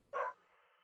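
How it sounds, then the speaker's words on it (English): A single short dog bark, faint and distant, followed by a brief fading tail of room sound. "Your dog wants to get on the conversation as well."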